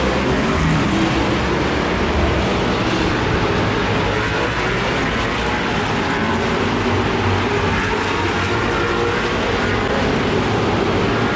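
A C4 Corvette race car at Watkins Glen gives a loud, steady engine roar that holds at an even level throughout with no clear approach or fade, and no talking over it.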